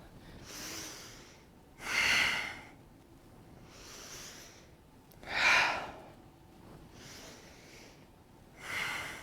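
Deep yoga breaths in a high lunge, slow rhythmic inhales and stronger rushing exhales alternating about every one and a half seconds, close and clear with no talk.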